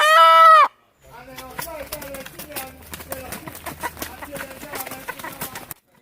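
A common fowl clucks and calls in a backyard, with a loud close squawk at the start and then a rapid string of bird calls and clucks.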